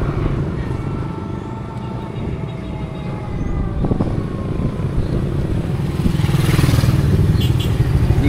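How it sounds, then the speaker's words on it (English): Motorcycle trike engine while riding in the Philippines, a continuous rumbling drone with road clatter and wind that grows somewhat louder in the later seconds. "Loves to ride in the trike, folks."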